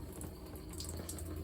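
Water running from a faucet in an RV shower during winterization, a brief steady hiss of flowing water at a soft level, heard alone.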